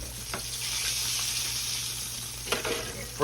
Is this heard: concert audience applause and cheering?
no